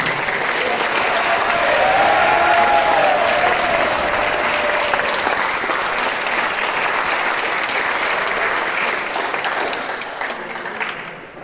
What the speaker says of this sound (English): And how about a nice round of applause for our four seniors?